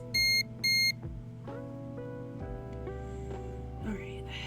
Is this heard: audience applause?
no